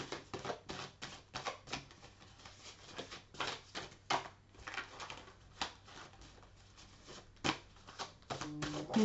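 Oracle cards being shuffled, a close, soft series of rapid papery riffles and taps in uneven bursts.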